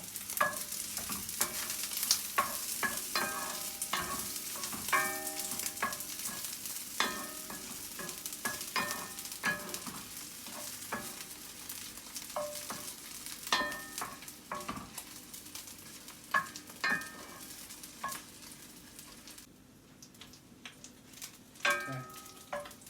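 Diced beef cubes sizzle in their own melted fat in a cast iron pan, a steady soft frying hiss broken by repeated scraping stirs of a utensil against the iron, with no talking.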